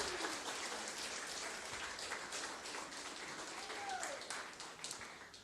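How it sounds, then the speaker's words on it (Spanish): A church congregation applauding, a faint, steady patter of many hands clapping heard from a distance for several seconds without talk. "Dale un aplauso al Señor."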